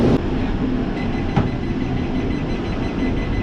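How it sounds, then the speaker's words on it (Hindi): Vande Bharat Express train starting to move, a steady low rumble and rolling hum of the carriage throughout with a brief mechanical clunk partway through, no talk. "Oh, and I think we have already started. Train has started."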